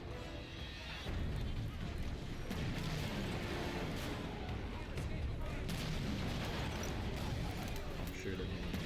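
Continuous gunfire and explosions during a battle in the video game Halo, a dense rumbling barrage with repeated shots and blasts layered over a constant low roar; voices talk faintly underneath.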